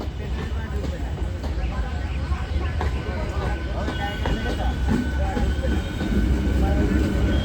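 A train rumbles past at a railway station with a heavy, continuous low roar and rattling wheels, growing louder toward the end while voices talk faintly underneath.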